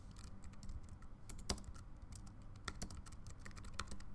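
Light typing on a computer keyboard, with irregular soft key clicks and one sharper tap, quiet and close with no talking.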